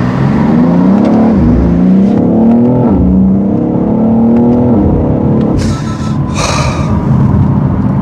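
BMW X3 M Competition SUV engine pulling hard from first gear, a loud, continuous rising roar with a throaty rasp, heard from inside the cabin, with a couple of brief high hissing bursts near the end.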